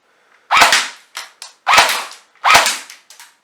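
Three sharp, loud shots from a Golden Eagle 6669 airsoft AEG light machine gun fired down an indoor hallway, each followed by quick echoing rattles of pellets bouncing about.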